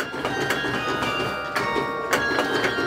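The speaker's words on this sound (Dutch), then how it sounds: "laat ik alle klokken luiden" Several carillon bells ring together, overlapping strikes blending into a sustained, shimmering peal close by.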